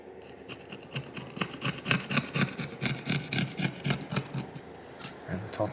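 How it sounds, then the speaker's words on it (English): A small flathead screwdriver scrapes in quick, regular strokes around the edge of an Oppo A16s phone frame, a close, rhythmic rasping that clears out dirt and dust. "I'll go around with a small flathead screwdriver"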